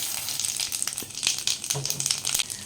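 Whole cumin and bay leaves crackle in hot oil for a chicken jhol, a bright sizzling hiss with scattered pops and light stirring scrapes, close and fairly quiet.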